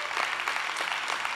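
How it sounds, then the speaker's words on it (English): A church congregation claps hands in steady, dense applause for a short burst, fairly close and uniform with no voices over it. "Give the Lord a hand clap for that."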